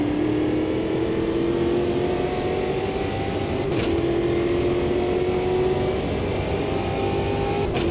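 Race car engines roar in the video game Automobilista 2, a loud sustained drone whose pitch climbs gradually with brief dips at gear shifts, near and continuous throughout.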